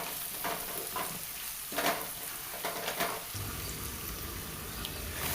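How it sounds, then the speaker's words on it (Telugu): Ginger garlic paste and turmeric fry in hot oil with a steady hiss, while a few scraping stirs come through in the middle before the sizzle settles back to an even background. "1 స్పూన్ అల్లం వెల్లుల్లి పేస్ట్ వేసి పచ్చివాసన పోయేంత వరకు ఫ్రై చేయండి"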